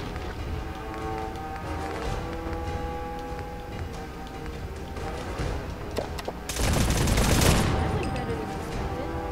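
Rapid gunfire in Fallout 4, bursts of quick shots and clicks over game ambience, building to a loud, dense burst of fire or an explosion near the end, with brief talking in places.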